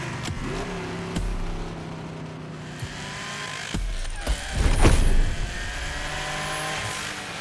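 A car driven in The Crew Motorfest, engine humming steadily at moderate volume with a few shifts in pitch, rising to a louder surge near the end before settling back.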